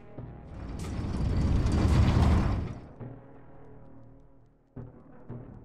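A door opens in the video game AI: The Somnium Files with a loud mechanical rumble and grinding that swells over two seconds, then fades into a lower hum punctuated by a few clunks, no talking.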